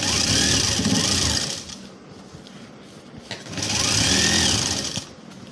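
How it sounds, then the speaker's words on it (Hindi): A sewing machine runs in two loud, steady bursts of stitching, pausing briefly between them, as a finishing seam is sewn on a child's lehenga. "इसके बाद में हम ये वापस इसको सीधा करके यहाँ फिनिशिंग की सिलाई लगा देंगे।"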